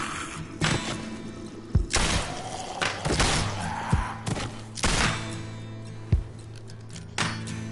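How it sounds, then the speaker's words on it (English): Gunfire in The Walking Dead video game as zombies are shot: a rapid series of sharp, loud shots and thuds, irregularly spaced across the stretch, with some in quick bursts and a low background hum between them. "You just wasted a clip of ammo on those zombies."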